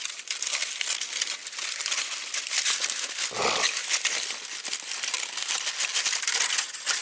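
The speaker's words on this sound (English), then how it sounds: "this potato, tear off the aluminum foil wherever is necessary." Aluminum foil is torn and unwrapped from a rooted sweet potato, giving a loud, close, continuous crinkling and crackling with small rustling bursts and no pause.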